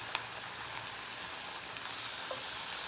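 Onions and vegetables sizzle on a grill with a quiet, steady crackle. A few small pops stand out, and no one talks.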